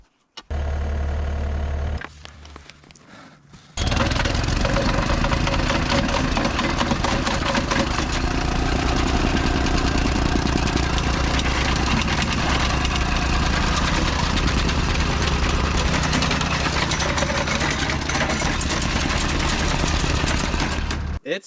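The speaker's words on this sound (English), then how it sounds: "Oh no, my jumping jack. It's almost out of gas." A gas-powered jumping jack compactor tamps soil around freshly set fence posts, its engine sputtering briefly before settling into a loud, close, continuous pounding drone that holds steady to the end.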